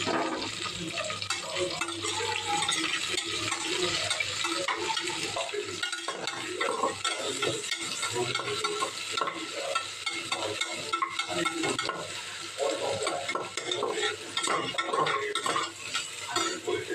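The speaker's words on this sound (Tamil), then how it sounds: "பச்சை மிளகாய் நல்லா வதங்கினதுக்கப்புறம் 2 பெரிய வெங்காயம் நீல வாக்கில் கட் பண்ணது சேர்த்துக்கோங்க" Sliced onions and green chillies sauté in a pan for coconut milk rice, a continuous hissing fry close up, with clinks and scrapes of a stirring utensil scattered throughout.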